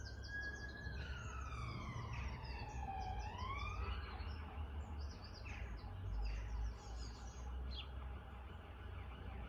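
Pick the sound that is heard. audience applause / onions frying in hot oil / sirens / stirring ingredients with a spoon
sirens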